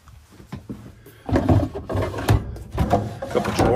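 Drawers sliding open and shut inside a 2003 Pleasure Way Excel TS Class B camper van, a few wooden knocks and rolling slides in close succession, loud and near, with a quieter knock first.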